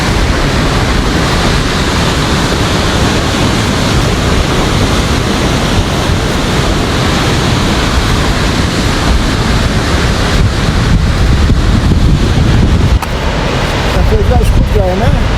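Broadband roar of sea waves and surf on a windy shore at Sirtu beach, steady and loud throughout with wind buffeting the microphone.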